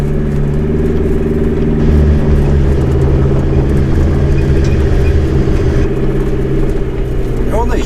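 A 4WD crawls slowly up a rocky high-country track with no lockers engaged, its engine holding a steady low drone with faint revving changes throughout, loud and close inside the cabin.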